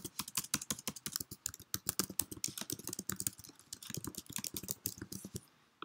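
Computer keyboard typing while taking research notes in a document, a fast irregular run of close, crisp key clicks that pauses briefly near the end, with no voice over it.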